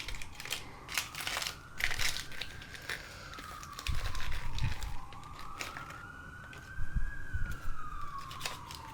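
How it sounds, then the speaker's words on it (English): Police car sirens wail and rise and fall in the distance, fading in and out over clattering and stirring noises nearby in a kitchen. "there's a lot of cop cars going by"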